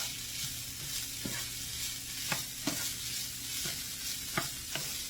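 Sweet sausage stuffing mixture for stuffed zucchini being stirred in a pan, a soft steady sizzle broken by five or six sharp spoon scrapes and taps at an uneven pace, quiet and close.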